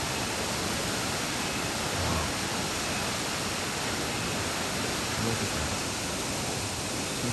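Waterfalls roar as a steady, loud broadband rush that fills the whole stretch evenly, with no voices over it.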